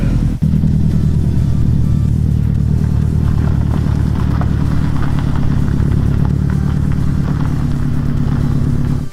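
Subaru WRX STi fitted with a new Catalyst downpipe, its exhaust revving loud and close with a dense, throbbing boxer rumble held steady for several seconds after a sharp start.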